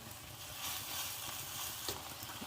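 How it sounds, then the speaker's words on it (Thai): Glass noodles and cha-om stir-fried in a hot pan give a steady, close sizzle, with occasional scrapes of the spatula as the mix is tossed; no one speaks. "ผัดส่วนผสมให้เข้ากันดีค่ะ"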